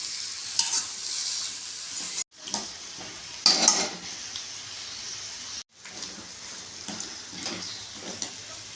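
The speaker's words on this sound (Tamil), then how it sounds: "பரங்கிக்காய் நல்லா கிண்டிக்கலாம் சிம்மில் வச்சே கிண்டுங்க" Chunks of pumpkin are stirred in a curry with chilli powder in a pan over a low flame, a soft sizzle under repeated scraping of a spoon against the pan, with two short breaks in the sound.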